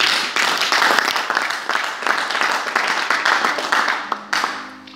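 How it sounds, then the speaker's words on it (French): A church congregation claps and cheers in praise for several seconds, loud and dense, then the applause cuts out abruptly near the end as a low tone comes in. "Acclame très fort le Seigneur Jésus."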